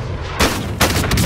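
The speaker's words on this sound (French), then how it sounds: "Il subit des tirs." Heavy bursts of gunfire in Call of Duty Warzone, loud and close, with a sustained rattling volley followed by a second sharp burst.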